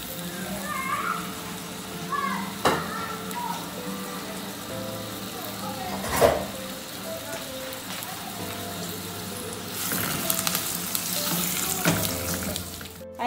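Onions frying in a pan for a goat meat fry, a steady close sizzle running throughout with brief clatters and stirring, a cat meowing and faint voices in the background.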